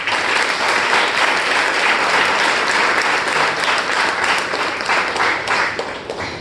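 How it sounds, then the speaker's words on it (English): A crowd applauds loudly and continuously, a dense wash of clapping that holds steady and tapers slightly at the end. "Can I have a demo of the thunderous round of applause?"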